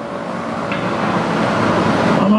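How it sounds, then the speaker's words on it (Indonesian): Three buses arriving on a road at the Wisma Atlet site, a steady, loud, broad engine and road rumble that swells slightly, ending with a brief tonal whine, with no talking. "Oh my god, ada tiga bis."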